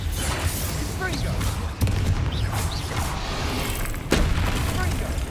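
Confringo blasting-curse explosions in Hogwarts Legacy, two sharp booming blasts over a dense layer of rumbling game effects, with talk throughout.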